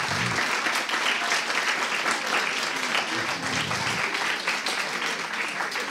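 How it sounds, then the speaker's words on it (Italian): An audience at an Italian book event claps steadily for two authors, a dense continuous round of applause filling the whole stretch with no voices over it. "Un applauso"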